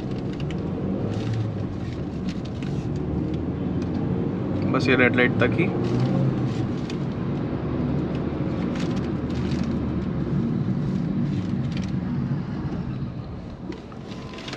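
A 2022 Hyundai i20 Magna petrol car accelerating along an open road, with a steady engine drone and road noise from inside the cabin that swells midway while someone speaks Hindi over it.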